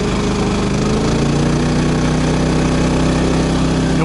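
RV generator engine running after a choke start, with economy mode off: a loud, steady, close mechanical drone with a constant low throb and no pauses.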